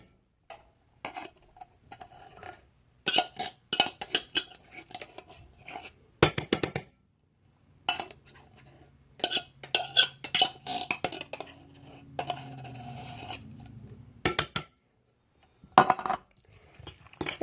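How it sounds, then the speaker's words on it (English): A spoon scrapes leftover food out of a can while making pork chops for dinner, giving repeated close metallic clinks and scraping strokes in irregular bursts with short pauses between. "Then you're going to scoop out what's left in the can."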